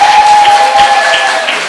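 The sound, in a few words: church audience applause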